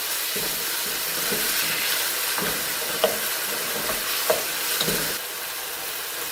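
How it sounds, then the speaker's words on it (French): Vermicelli frying in a pan and being stirred, a steady close sizzle with repeated soft scraping strokes of the spoon at regular intervals, no voices. "On va les remuer pendant 1 minute."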